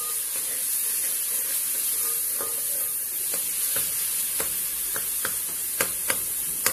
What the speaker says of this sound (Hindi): जब इसमें फलियां डाल दी जाएंगी फिर आपने आंच को हल्का कर देना है क्योंकि हल्की हल्की आंच पे भूनना है